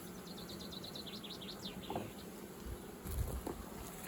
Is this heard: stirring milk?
no